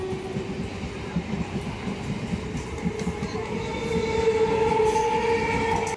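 A train moving at Habibpur station rumbles steadily nearby, with rail clatter, a sustained wheel squeal and the noise swelling slightly toward the end.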